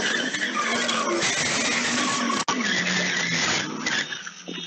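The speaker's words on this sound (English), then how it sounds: "I hear a bunch of tires squealing against the road" Tires squeal loudly and continuously against the road as a blue Dodge Ram pickup truck crashes, captured on surveillance footage, with a brief dropout midway and the shriek easing off at the end.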